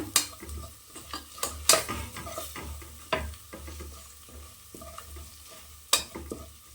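Ground spice paste frying for country chicken fry, a soft sizzle under intermittent sharp scrapes and taps of a spatula stirring in the pan, close but fairly quiet, with no talk.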